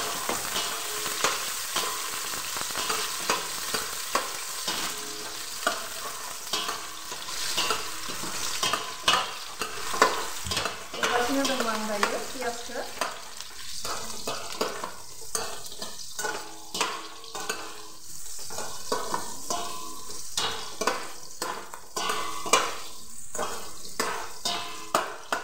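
Onions frying in a pan until golden for biryani, a steady sizzle under frequent stirring scrapes and utensil clinks, close and moderately loud.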